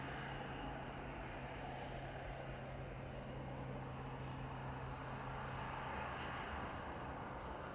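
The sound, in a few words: aircraft reverse thrusters deployed on landing at East Midlands Airport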